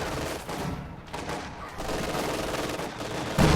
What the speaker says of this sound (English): He's got 3 veteran grenadiers here that are all shooting at his retreating units here